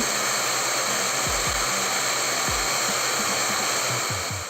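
A Xenon CDCS1845 cordless circular saw spins freely at full speed, a loud, steady, high-pitched whine that holds constant throughout with faint low knocks underneath and no speech.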